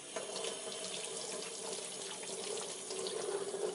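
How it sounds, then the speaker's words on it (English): Large Granny Smith apples rinsed under a running kitchen tap: a continuous, fairly quiet hiss and splash of water falling into a sink, steady throughout with no talking. "So now I've got to just rinse the apples off."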